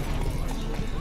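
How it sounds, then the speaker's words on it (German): Horse hooves clip-clop on the Skellige isles in The Witcher 3: Wild Hunt, a steady close trotting rhythm mixed with game ambience and a voice speaking over it. "Einmal mit deinem Pferdchen."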